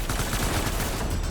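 Rapid gunfire from a firefight in the video game Death Stranding, dense bursts of overlapping shots filling the whole moment at steady loudness with no pause.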